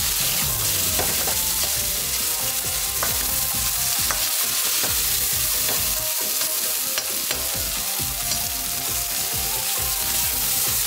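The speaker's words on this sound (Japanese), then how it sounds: "肉の色が変わるまでこいつを焼き付けるように炒めていく" Ground chicken seasoned with salt and pepper stir-frying in a pan, a dense, loud, unbroken sizzle close up, with scraping and stirring noises running through it.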